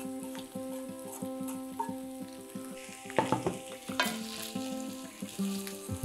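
Potatoes tipped into a hot frying pan for pytt i panna, a steady close sizzle with rhythmic scraping and stirring, louder bursts of crackle as the pieces land and are turned.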